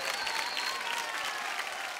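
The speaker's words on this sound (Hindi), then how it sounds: "जोरदार तालियां हो जाए" TV studio audience at a Bhojpuri Biraha singing contest show breaking into brisk, full applause, a dense clapping wash that stays steady from start to finish with no one speaking.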